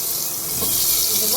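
Bottle gourd dropped into a hot pan for tomato soup, giving a loud, steady close hiss of steam and sizzle that swells slightly across a brief moment.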